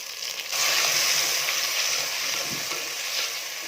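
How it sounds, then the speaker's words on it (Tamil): Onions, small shallots and green chillies with tomato sizzle and fry in a pan for a Kerala-style fish curry, a steady close hiss with occasional stirring scrapes, no voices. "வெங்காயம் வதங்கிடுச்சு. தக்காளி சேர்த்துக்கிறேன்."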